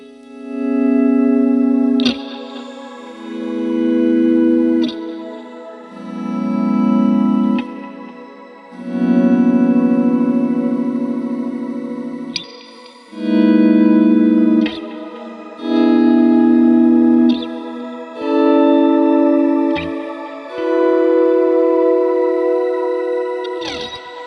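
Guitar chords swell in one after another on a volume pedal, washed in distortion, chorus and echo, each fading in from silence and ringing out in a slow, even rhythm.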